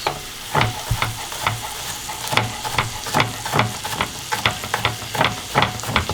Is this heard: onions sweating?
yes